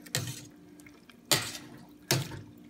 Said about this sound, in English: After blanching, we will put this in a cold water.